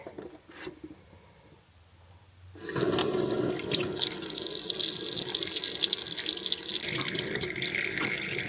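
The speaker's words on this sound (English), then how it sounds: "I should now have warm water here." Warm water pours from a tap inside a van, starting suddenly after a quiet moment and then running as a loud, steady stream that continues to the end, with no one talking.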